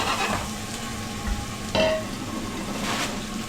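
Onion frying in bacon grease makes a steady close sizzle, with stirring strokes and a scrape or clatter against the pan at intervals.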